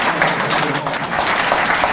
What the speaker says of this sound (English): Give him a round of applause, Associate Professor Martin.